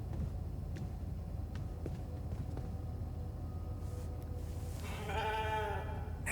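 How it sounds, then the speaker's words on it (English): Sheep bleating in the video game The Alters: a short run of several bleats near the end, rising out of a steady low game ambience. "Never thought I'd be so glad to see a sheep."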